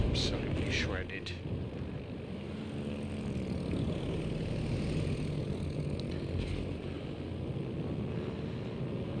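Propeller aircraft engines droning in the naval battle game World of Warships Legends, a steady mid-level hum of planes over the water, continuous through the stretch with a few sharp game effects at the start.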